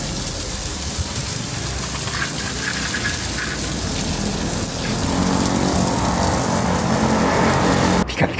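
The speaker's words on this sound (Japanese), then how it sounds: "では流しますね。 はい、 このホースで十分です。" Garden hose water rinses a car wheel, a steady, loud, close gushing spray that continues throughout and swells slightly near the end before cutting off abruptly.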